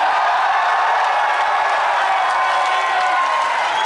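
A large crowd roars and cheers at the Rev Major 2019 fighting-game tournament, a dense, loud and continuous wall of shouting with faint applause mixed in.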